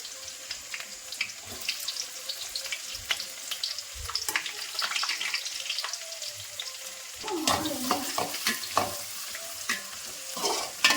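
Chopped shallots sizzle and crackle steadily in hot sunflower oil, with scattered stirring clatter and a louder burst of frying partway through; no one speaks.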